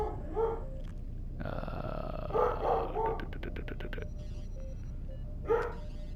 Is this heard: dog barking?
yes